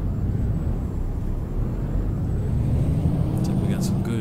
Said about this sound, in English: Man, I love the way that truck sounds